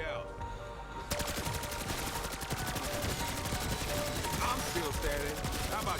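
Rapid automatic fire from the Kilo rifle in a Call of Duty zombies match, a dense sustained burst of loud gunshots starting abruptly after a moment of quieter game noise.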